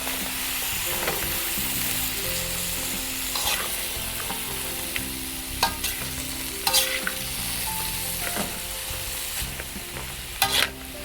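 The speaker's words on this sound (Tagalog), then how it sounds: "Baguio beans. Yan. Tapos hahaluin lang natin siya." Baguio beans stir-fried with beef in a hot pan, with a steady loud sizzle and repeated scraping clicks of a spatula against the pan, with no talking.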